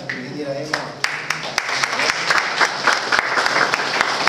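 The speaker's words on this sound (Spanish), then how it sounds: "Y les pido un aplauso aparte, dos aplausos voy a pedir." A classroom audience applauds a teacher, a dense burst of clapping from many hands that carries on steadily with a voice showing through at the start.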